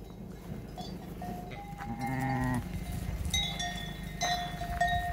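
Sheep bleating on a farm road in Portugal, several calls rising over a steady outdoor background with a faint bell-like ring, animals moving close by.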